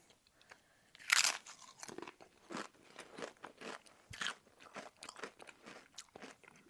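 Crunching of nacho cheese Doritos dipped in jalapeño dip, a sharp loud bite followed by a steady run of close chewing crunches, no talking.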